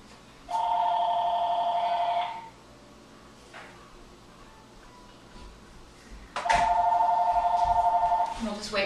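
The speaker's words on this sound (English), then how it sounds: "Wait for that to stop ringing." A telephone rings in a home kitchen during a live-food cooking demonstration, two electronic trilling bursts separated by a pause, fairly loud over a quiet room with faint talk between.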